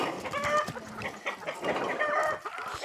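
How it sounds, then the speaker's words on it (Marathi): Several chickens cluck in a busy, overlapping chorus close by at a farm, with scattered calls and a faint rooster-like cry running through the short stretch, no talking. "हे बघा इथे कोंबडी आहे"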